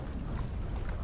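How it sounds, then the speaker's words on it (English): Steady light wind over the open ocean during a windfoiling session, a soft continuous rush with low rumble and no gusts, broadband and even throughout. "consistent light wind."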